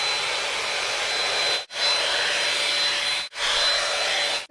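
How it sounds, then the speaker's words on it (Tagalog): Hair dryer blowing steadily on hair, loud and close, in three long bursts separated by brief cutoffs with no talking. "kailangan natin siyang hair blower"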